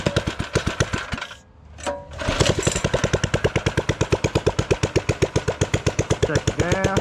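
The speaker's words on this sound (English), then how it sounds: "we're gonna go ride around on the mini moto" A minibike engine runs steadily and close by, with a fast, even popping exhaust rhythm that dips briefly in the middle and then picks back up to a constant buzz.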